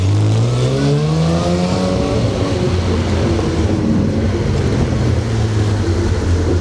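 A Jaguar D-Type race car drives along, its engine and exhaust giving a loud, steady drone with a rising then settling pitch, heard close from inside the car.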